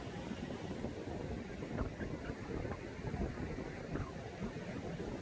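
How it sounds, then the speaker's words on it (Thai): Strong wind buffets the microphone at Mae Ramphueng beach in Rayong, Thailand, a steady broadband roar with gusty surges lasting throughout and no speech. "วันนี้ลมค่อนข้างแรงนะครับ"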